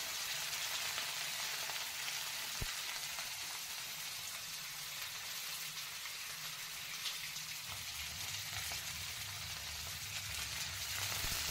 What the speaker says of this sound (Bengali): ফুলকপিটা কিছুক্ষণ আমি ভেজে নেব।